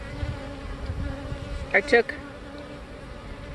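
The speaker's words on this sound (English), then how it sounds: "I'm going to shake the rest of the bees back in." Honey bees buzz around an opened beehive during an inspection of an old queen's colony, a low droning hum under a brief murmur of speech, with a couple of sharp handling knocks near the middle.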